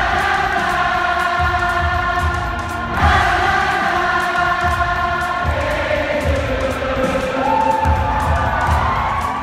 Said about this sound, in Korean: 벌써 방탄소년단을 응원하는 팬들의 목소리가 여기까지 들립니다